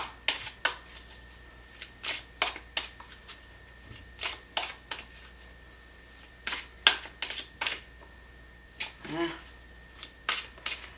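Tarot cards shuffled by hand in bursts of crisp riffling and slapping, with pauses between and one louder snap as a single card springs loose from the deck.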